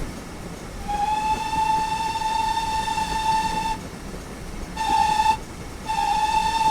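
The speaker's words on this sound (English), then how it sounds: "we've got a slightly different whistle on the spacebar" A GWR 9400 Pannier Tank steam locomotive in Train Simulator Classic sounds a steady, clear whistle, one long blast and then two shorter ones, over a low rumbling background.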